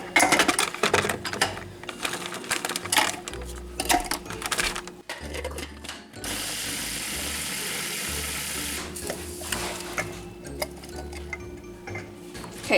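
Cookies are crushed in a bowl with rapid crackling, tapping and crunching bursts that come in uneven clusters over several seconds, broken by a steadier grinding stretch, with no speech.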